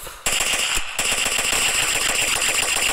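Rapid automatic gunfire from the Kuboom 3D first-person shooter video game rattles loud and continuous, with a short break near the start and no talking.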